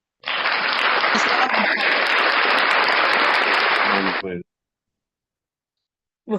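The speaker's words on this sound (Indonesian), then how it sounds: "Ngeri kali tepuk tangannya ya" Applause at a church service, a dense burst of clapping from the congregation lasting about four seconds, then cutting off into silence before a voice briefly begins.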